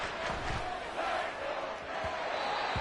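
Loud stadium crowd roaring steadily at a football game, a dense sustained wall of voices throughout with no clear speech on top.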